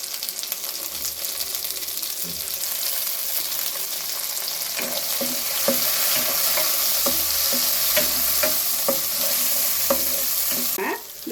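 Onion, garlic, curry leaves and tomato sauté in a pan for a brinjal and field-bean kara kuzhambu, a steady loud sizzle with rhythmic scraping stirs throughout.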